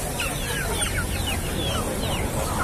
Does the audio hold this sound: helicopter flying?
no